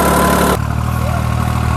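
A New Holland 3630 Super 4WD tractor engine idles steadily and low close by, with a louder, busier stretch at the start that drops into a constant rumble.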